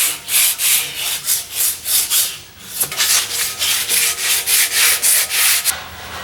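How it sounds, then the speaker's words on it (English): Rhythmic hand sanding of a Catalina 22 sailboat keel with 80-grit sandpaper, steady back-and-forth rasping strokes repeating about twice a second, close and fairly loud with no talking. "I've sanded the whole thing with 80 grit."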